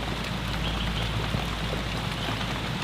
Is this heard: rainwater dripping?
yes